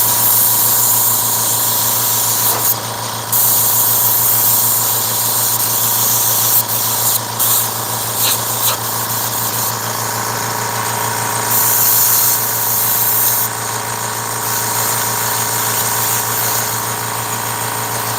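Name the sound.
airbrush spraying paint on a hoodie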